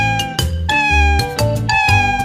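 Small kitten crying with a series of high, plaintive meows that come in short repeated bursts, close and fairly loud, with no voices over them.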